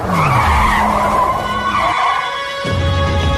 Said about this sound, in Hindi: गाड़ी एक बार फिर से अपने आप रुकी